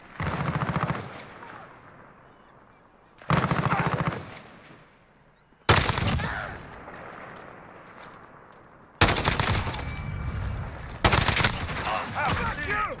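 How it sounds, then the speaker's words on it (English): Bursts of SIG SG 550 rifle fire in Call of Duty Modern Warfare, fired unmounted from a crouch: five loud, sharp volleys of rapid shots, each fading into a short echoing tail before the next. "I'm gonna start and keep this in full auto, and we're just gonna burst fire this."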